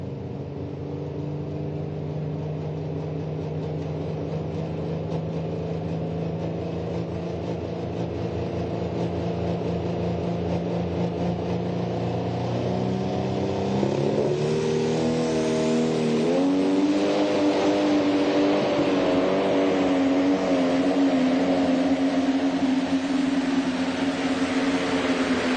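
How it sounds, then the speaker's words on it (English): A Pro Stock pulling tractor roars through a run at a night pulling event, a loud sustained engine note that climbs in pitch partway through and holds high to the end, with no talk over it. "The sound of that tractor. Good strong run right there."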